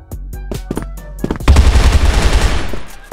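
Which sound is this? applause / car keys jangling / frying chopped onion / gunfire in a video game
gunfire in a video game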